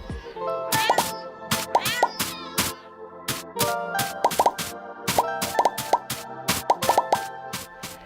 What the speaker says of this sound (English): some smaller sound effects, for example, when collecting items